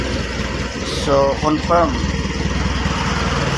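A small engine running strongly after a carburetor repair, its steady mid-pitched drone loud and continuous, with a brief rise in revving partway through while someone talks over it.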